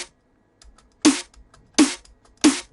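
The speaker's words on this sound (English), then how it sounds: "To make some room for the thump of the snare drum." Three sharp, punchy electronic snare hits, evenly spaced and loud, with short bright decays and quiet soft ticks in between.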